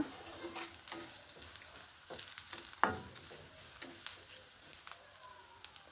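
Garlic and dry red chillies fry in oil with a soft, steady sizzle, broken by light scraping and tapping as a utensil stirs the pan, fairly quiet and with no talking.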